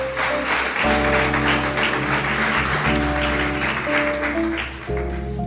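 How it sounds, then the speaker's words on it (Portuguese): A church congregation claps together in sustained applause, loud and continuous, over sustained organ or keyboard chords. "Dê uma salva de palmas ao Senhor."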